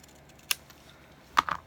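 Scissors snip through material for a Halloween test tube craft, giving one short crisp cut followed by two quick snips close together, quiet and close with no talking.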